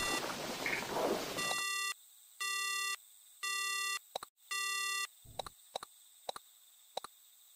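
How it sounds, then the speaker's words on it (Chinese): Eerie phone signal beeps sound in the horror game Haunt: after a burst of rushing noise, a string of evenly spaced electronic tones plays, then sharp clicking ticks follow, clear and isolated with no voices. "我电话怎么有鬼声啊？"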